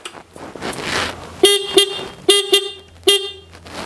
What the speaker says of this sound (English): We got horn.